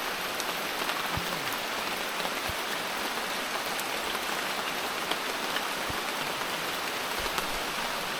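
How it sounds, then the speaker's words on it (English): Steady rain pouring down outdoors in a tribal village setting, a dense, even hiss with scattered close drips and taps, constant and fairly loud with no voices. "So, and it's raining. Beautiful rain."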